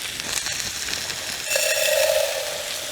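Rice seasoned with garlic salt fries in a camp pan on a backpacking trip, giving a soft, even sizzle and hiss close by, with a brief tonal whine partway through.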